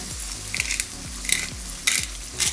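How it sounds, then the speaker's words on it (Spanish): Pork ribs for garlic ribs sear in a frying pan with a constant close sizzle, punctuated by scraping and clinking as the pieces are turned. "Las movemos para que se vayan sellando por todos los lados uniformemente"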